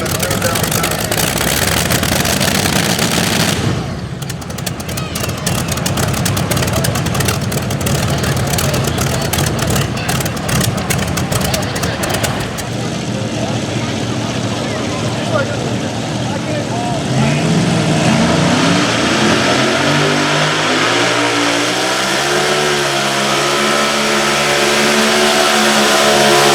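Twin-engine tractor-pulling machine idling and revving its two engines, a loud continuous roar with a rattling burst early on and shifting pitch later, under a talking announcer.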